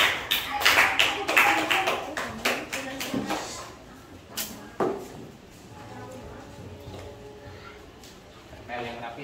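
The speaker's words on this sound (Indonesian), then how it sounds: "Oke, tepuk tangan untuk kelompok Malaysia." Group of people clapping for a team in a classroom coaching session, a burst of irregular claps and taps that thins out after a few seconds and gives way to quieter room sounds.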